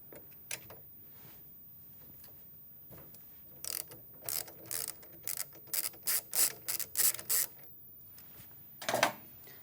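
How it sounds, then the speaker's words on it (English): A socket ratchet works the group restrictor loose on a Sanremo espresso machine, giving a run of close, rapid clicking bursts in a steady rhythm after some quieter handling noises, with no talking. "Number 7 socket set to remove the restrictor."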